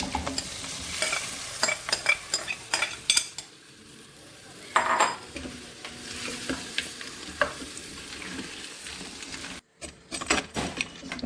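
Cooked crab is stirred into a thick gravy in a pan, with repeated scraping and clinks of a metal spoon against the pan over a light sizzle, in uneven bursts with a brief pause near the end.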